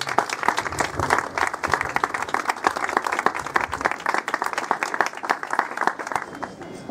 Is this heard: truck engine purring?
no